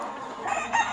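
A fighting rooster at a breeding farm crows once, a brief close call that rises in the second half of a one-second span over a steady background.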